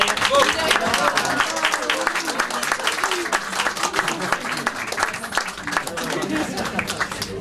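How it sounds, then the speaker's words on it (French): Audience applause at a French campaign event: dense, sustained clapping from a crowd, loud and close, holding steady for several seconds before gradually thinning slightly. "je vais vous demander d'applaudir, s'il vous plaît, Vincent Lebrun, mon directeur de campagne."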